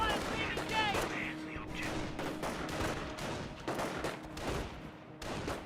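Battle din from Company of Heroes, a World War II strategy game, with repeated gunshots, machine-gun bursts and distant blasts rolling on under a speaking voice.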